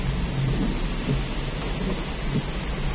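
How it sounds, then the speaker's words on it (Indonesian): Heavy morning rain pours down in Manado in a dense, constant roar, with a low rumbling underneath. "Ini hujan lebat ini teman-teman"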